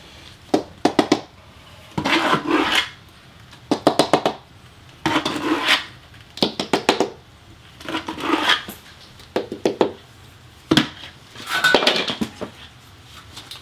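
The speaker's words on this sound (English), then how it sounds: "I'm just going to get a good trowel on it." A small-notch trowel spreads thinset across a shower pan flap during tile shower prep, giving repeated scraping and slapping strokes in short bursts with brief pauses between them, close and fairly loud.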